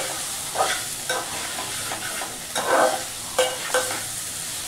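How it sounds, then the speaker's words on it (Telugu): Turmeric stirred into a dish cooking in a pan: a steady sizzle with a spoon scraping and stirring in soft repeated strokes, close up and with no voices. "పసుపు వేసుకున్నాక ఇలా కలుపుకోవాలి."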